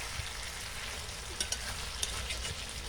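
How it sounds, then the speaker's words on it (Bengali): Chicken spare parts masala is stir-fried in a pan, village style: a steady, even sizzle of hot oil with a few faint scraping clicks from the stirring. "আর একটু ভালো করে কষিয়ে নিতে হবে"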